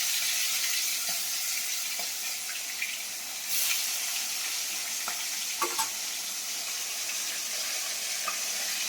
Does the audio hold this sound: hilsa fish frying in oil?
yes